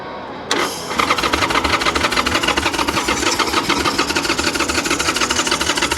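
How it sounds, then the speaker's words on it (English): Harley-Davidson Sportster with a pumper carburettor catches and starts after a brief quiet moment, then runs at a loud, close, rapid chattering idle with steady ticking pulses and slight surges. "Give it a couple of throttle blips because it's a pumper carb."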